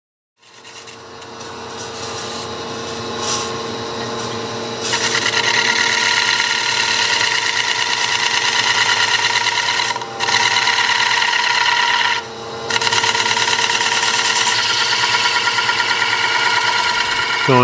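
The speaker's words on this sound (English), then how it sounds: "Now I'm starting to do some draw cuts" A woodturning gouge makes draw cuts on a spinning wooden calabash bowl on a lathe. A steady, loud, droning cutting noise runs nearly throughout, swelling in intensity with brief dips as the tool lifts and re-engages.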